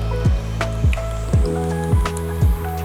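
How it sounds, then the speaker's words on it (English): Eggs beaten with a tiny whisk in a bowl, with about five quick wet swishing strokes in a steady rhythm, close and moderately loud and with no talking. "Then let's add some salt, a little bit of pepper, and then we're gonna whisk it."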